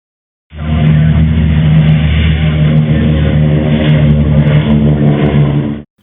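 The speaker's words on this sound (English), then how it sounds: "Shut up, compressor." A shop air compressor runs loud and steady for about five seconds, starting and cutting off abruptly, with a constant mechanical drone and no voices.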